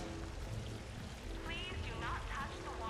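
An indoor waterfall in the video game Mass Effect 3 gives off a steady, dense pouring rush of falling water that holds unbroken throughout, and faint voices talk under it.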